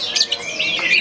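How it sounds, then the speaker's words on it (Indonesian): A songbird at a bird club chirps close by in quick, bright, high tweets and short trills, fairly loud and alone. "Nama burung Reikosiota"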